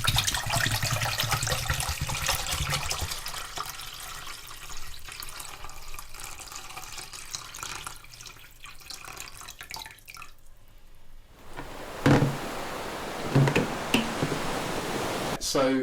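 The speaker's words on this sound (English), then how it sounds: "Get some water in a pan." Water runs from a kitchen tap into a pan in a steady hissing stream that gradually fades and cuts off, followed by a few clunks and splashes close by.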